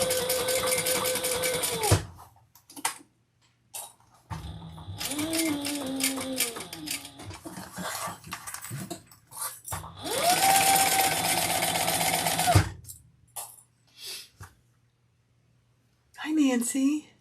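A sewing machine top stitching leather runs in several short bursts of rapid, buzzing stitching separated by pauses, close and moderately loud, with someone talking in between.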